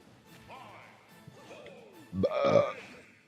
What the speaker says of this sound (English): Apologies for the burp